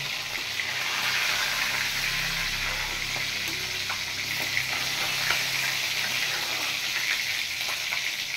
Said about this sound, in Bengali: এবার আমি পমফ্রেট মাছগুলো ভেজে নেব।